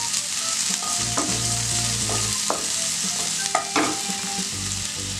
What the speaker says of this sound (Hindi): 1-2 मिनट हरी मिर्च को भून कर उसमें प्याज डाल देते हैं।